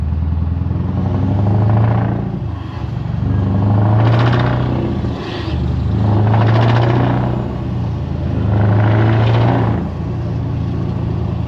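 Deep, loud V8 exhaust from a Scania R500 truck droning steadily, swelling and easing in waves as the truck pulls along, heard from nearby with no talking.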